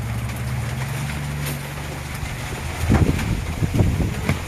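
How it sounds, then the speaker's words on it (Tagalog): A strong river current rushes in a dark, rainy, windy setting, giving a steady broadband roar with low rumbling that grows heavier and more turbulent toward the end. "Malakas ang agos."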